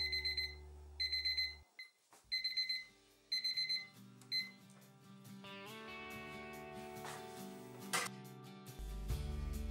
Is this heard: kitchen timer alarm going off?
yes